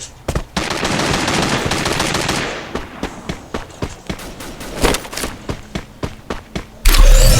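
Gunfire in the Free Fire video game: a loud, rapid automatic burst for about two seconds, then a run of separate single shots at an uneven rhythm, ending in a heavy blast.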